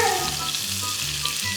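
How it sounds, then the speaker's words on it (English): Butter browning in a pan, a steady close sizzle with fine crackling bubbles running throughout, loud and alone without talking. "first we have to cook this butter until bubble and brown"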